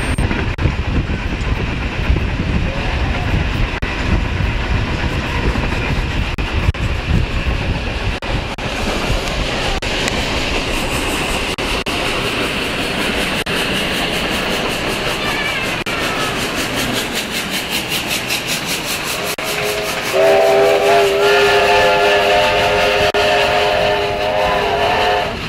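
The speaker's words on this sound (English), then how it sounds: "all eyes were on the three steam locomotives" Three steam locomotives run together at the Hunter Valley Steamfest 2010, their heavy rolling rumble and rail noise steady and loud, then a long, bright whistle sounds from about twenty seconds on.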